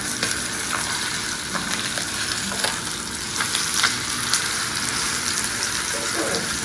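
A pork chop frying in a pan on high heat with garlic, sizzling steadily and loudly up close, with crackles and spatters as it is turned.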